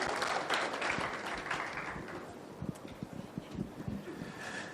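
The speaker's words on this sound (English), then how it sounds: "So please give a round of applause" Conference audience applauding to welcome a speaker at a regional African internet conference, a full round of clapping in a hall that thins into scattered claps and thumps toward the end.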